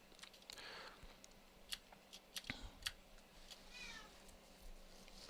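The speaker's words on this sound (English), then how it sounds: "You guys hear the cat?" A house cat meowing faintly in the background of a quiet room, a few short, thin cries spread across the moment along with scattered light clicks and taps.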